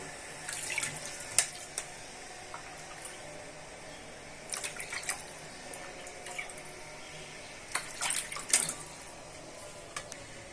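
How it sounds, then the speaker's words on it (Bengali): Water is poured into a simmering silver carp and cauliflower curry with potatoes and tomatoes, a steady soft splashing wash with a few louder trickling surges and drips throughout. "এখন আমি ঝোলের পানিটা দিয়ে দিব।"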